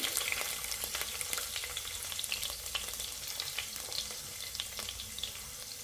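Garlic frying in coconut oil for chilli chicken makes a dense, constant sizzle, loud and close, broken by frequent small crackles, with nobody speaking.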